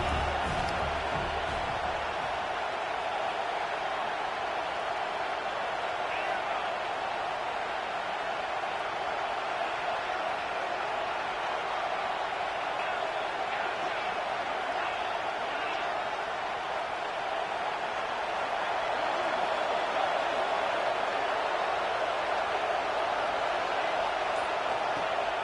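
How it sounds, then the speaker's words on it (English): Crowd noise in a football stadium during a game, a dense, sustained roar that holds steady throughout and swells slightly near the end. "this crowd trying to help keep them there"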